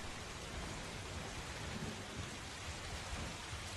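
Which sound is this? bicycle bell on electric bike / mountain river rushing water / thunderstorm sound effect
thunderstorm sound effect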